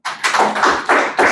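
An audience applauds a participant at a JCI Parakou Royale success-story tribune event, a short burst of dense, close clapping that swells and pulses for about a second.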